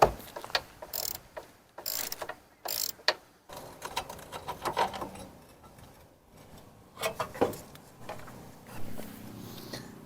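Ratchet removing the tube step bolts from a Jeep JK, heard as bursts of rapid clicking separated by pauses, close and fairly loud, with metallic handling noises in between.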